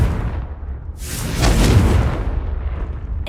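A single Confringo blast spell from the game Hogwarts Legacy bursts with a rushing, roaring explosion that swells to a peak and then trails off into a low rumble.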